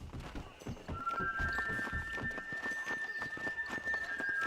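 In the Red Dead Redemption video game, a horse gallops with steady rapid clip-clop hoofbeats and lets out a high whinny, fairly close and continuous over ambient game sound.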